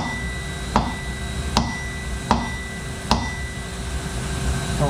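A hammer strikes the flange end of a 16-inch steel shaft four times at an even pace, each blow a sharp ringing metallic clang over a steady machine-shop hum.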